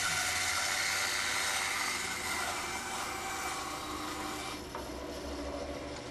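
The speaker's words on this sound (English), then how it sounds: "Dried northern cedar is very nice to work with. Very dry, very soft, and typically cuts real smooth on the bandsaw." A bandsaw slices smoothly through soft, dried northern cedar being shaped into a decoy head, a steady, loud, close rasping hiss of blade on wood that eases slightly toward the end.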